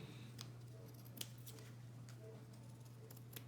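Quiet, sparse snips of scissors cutting fabric, a handful of soft crisp clicks spaced irregularly over a steady low hum.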